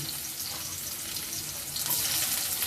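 Onions hiss and sizzle in hot oil with cinnamon and cardamom, a loud, close, continuous crackle that swells slightly toward the end.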